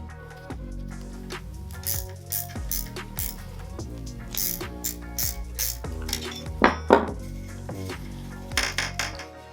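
Metallic ratcheting and clinking as double-nutted engine studs are driven into a Puch Maxi LS moped cylinder with a wrench, with repeated quick ratchet clicks and ringing metal taps, close and steady, no talking.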